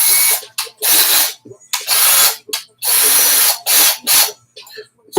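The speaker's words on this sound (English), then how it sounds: "I'm going to just put a lead screw in here really quick just so I can show you what it looks like once you get it on." A lead screw is fitted into a 3D printed tumbler-turner attachment on a motor. Sharp, loud bursts of drill-like ratcheting come in about half a dozen short runs with brief pauses between them, close to the listener.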